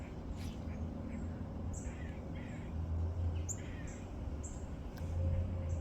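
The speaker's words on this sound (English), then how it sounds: "there's some birds calling over there to each other or whatever" Birds, likely crows, call back and forth outdoors in the distance, with several short caws scattered over steady low background rumble.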